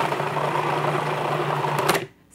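Food processor whirring steadily as it blends cold fish into a paste for Thai fish cakes (tod mun pla), a continuous close motor drone that cuts off abruptly near the end.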